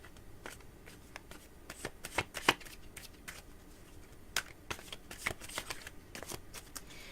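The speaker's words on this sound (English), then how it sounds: "I think these are almost shuffled good enough." Tarot cards are shuffled by hand at a psychic reading, giving a steady run of crisp riffling flutters and soft slaps that peak in a few sharper bursts, close and alone without talk.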